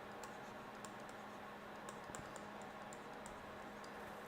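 Notes are typed on a computer keyboard in rapid, irregular clicks, close and fairly quiet, with a steady hum underneath and no talking.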